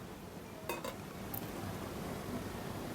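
Meat being stirred in a pot for khichuri, with a couple of sharp metallic clinks of a utensil against the pot over a low steady cooking hiss.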